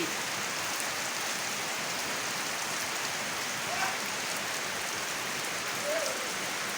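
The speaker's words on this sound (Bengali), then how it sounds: "দেখেন রাতের বেলায় কী পরিমাণ যে বৃষ্টি" Steady, dense rain pours down at night without a break, a constant hiss of drops on surfaces with no voices.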